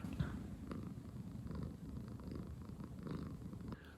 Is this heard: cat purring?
yes